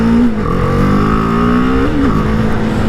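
A BMW G310R 300cc single-cylinder motorcycle revving while riding, a loud close engine drone whose pitch climbs, dips briefly and climbs again, with steady wind and road noise underneath.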